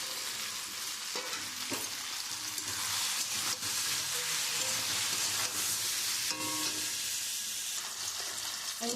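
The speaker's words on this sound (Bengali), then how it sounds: "আমি মশলা দিয়ে খুব সুন্দর করে কষিয়ে নিয়েছি" Chili, turmeric and cumin powders with salt sizzle in oil for a rohu fish curry with beans and potatoes, a steady frying hiss with intermittent scraping stirs and clinks against the pan.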